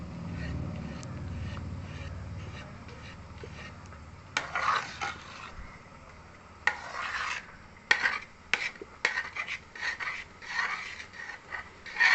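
Papaya halva with sugar stirred continuously in a pan gives repeated rasping, scraping strokes, soft at first and then louder and more frequent in uneven bursts toward the end.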